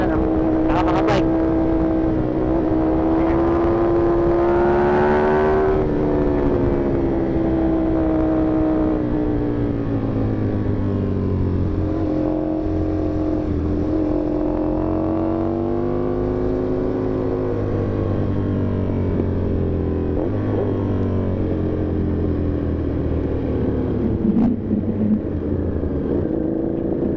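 Motorcycle engine droning loud and close for the whole stretch, its pitch rising and falling with throttle on a road ride alongside Ducati Panigale V4R and Kawasaki ZX sport bikes, with a rider talking over it.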